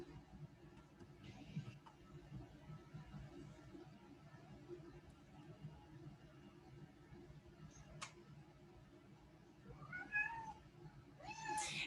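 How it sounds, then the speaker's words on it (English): A house cat meows in the background of a quiet room, a short faint meow near the start and a few rising meows toward the end, over a steady low fan-like hum. "So if you hear meowing in the background,"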